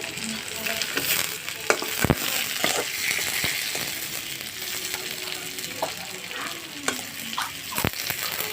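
Tomatoes go into lightly fried pabda fish in a pan, giving a loud, dense sizzle with close, irregular spatula scrapes and knocks against the pan throughout.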